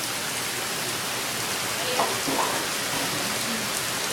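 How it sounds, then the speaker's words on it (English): Steady rain falling outdoors, an even dense hiss of drops with a few louder patters, no voices. "it's rained every day since we've been back"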